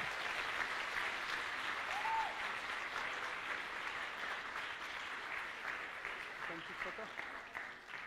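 An audience claps at the Swiss Fantasy Show 2018 cosplay contest, even continuous applause at moderate level that slowly thins out over several seconds, with a brief voice partway through.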